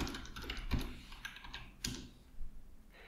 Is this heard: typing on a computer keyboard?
yes